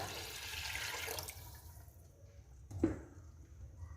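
Water pours steadily into a pressure cooker for about a second and a half while cooking beef biryani, then trails off into quiet with a brief clink near the end.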